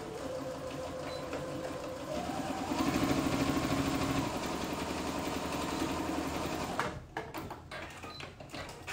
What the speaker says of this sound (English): I'm just using my straight stitch again. 1/2 inch seam allowance. And I'm gonna sew down.